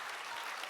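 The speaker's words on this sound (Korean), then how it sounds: "우리 엄마 위해서 한번 박수 한번 하시죠" A church congregation gives a brief, dense burst of steady applause during a Sunday worship service.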